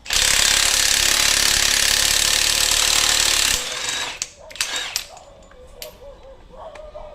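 A cordless impact wrench hammers loudly and continuously at rusted European truck wheel nuts for several seconds, then stops, followed by a few metallic clanks and knocks at close range.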